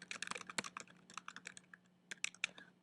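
Quick bursts of keystrokes on a computer keyboard, close and crisp with uneven pauses between flurries, no talking.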